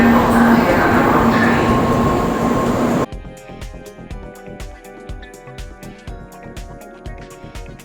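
A Japanese bullet train rumbles loudly past a station platform for a few seconds, then cuts to a quieter stretch of rhythmic percussive clicks and taps.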